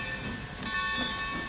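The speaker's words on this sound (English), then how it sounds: "Oh, this train's giving off a lot of steam." Simulated steam locomotive in the Trainz 2022 game gives off a steady soft hiss of steam over low rumbling running noise, brief and moderately quiet.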